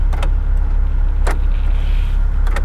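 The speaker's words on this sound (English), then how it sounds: "it also has power locks. You can hear it click." Power door locks on a 1999 Mazda Miata clicking a few times, short sharp actuator clicks over a steady low engine hum, close up with no talking.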